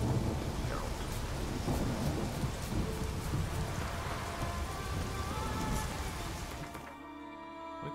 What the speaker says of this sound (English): Been storming the whole time, man.